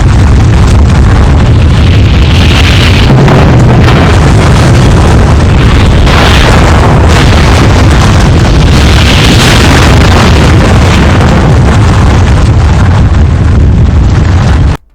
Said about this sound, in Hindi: ये एक न्यूक्लियर बम धमाका था।